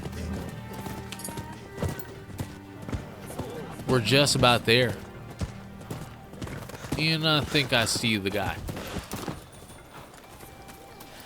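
Steady clip-clop of horse hooves in the video game Rise of Ronin, with someone speaking briefly over it twice.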